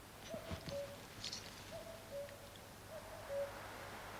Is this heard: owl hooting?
yes